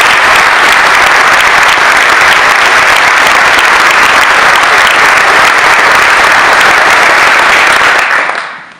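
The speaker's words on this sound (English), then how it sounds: "let's give her a big round of applause" Applause from an audience at a political speech by Governor Cuomo, a dense, loud, sustained wash of clapping that fills the room and cuts off near the end.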